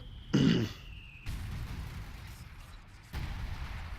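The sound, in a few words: grenade explosion in a WWII video game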